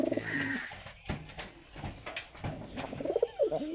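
Pigeons coo softly amid a busy loft, with rolling low calls at the start and end over scattered rustling and fluttering, no talking.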